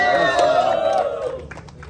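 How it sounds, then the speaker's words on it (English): Outdoor calisthenics competition crowd cheering and clapping for a runner-up muscle-up athlete, a short burst of shouts and whoops mixed with scattered applause, fading toward the end. "Round of applause for Martin!"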